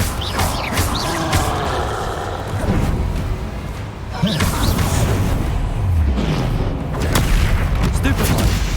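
Confringo spell explosions in the video game Hogwarts Legacy, several loud booming blasts with whooshes amid ongoing combat effects, a voice calling out spells over them.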